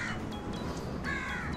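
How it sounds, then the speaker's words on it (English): Crows cawing at a Maldives island resort, a couple of harsh caws heard at moderate distance over steady ambient outdoor noise. "ayan yung crow na sa taas"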